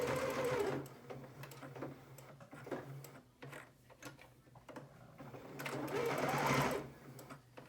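A serger hums in quick mechanical bursts as it stitches one-inch strips of t-shirt fabric together for a face mask, with a softer pause between two longer runs and faint ticking of the mechanism.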